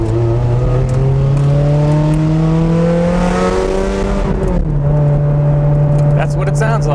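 A Ferrari Challenge Stradale engine revs hard and climbs in pitch while driving uphill, then drops briefly as it shifts and keeps pulling, loud and close.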